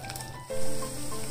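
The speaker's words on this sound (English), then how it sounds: "I can hear the sizzling sound." Homemade hair oil heated over a low flame sizzles softly and continuously for a moment, a close, faint hiss with light crackling.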